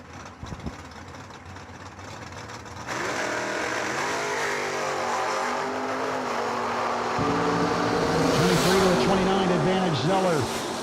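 A 1967 Camaro and a 1971 Demon roar off the line in a door-car drag race, engines swelling from a lower rumble into a loud, sustained wail, with an announcer talking over the noise.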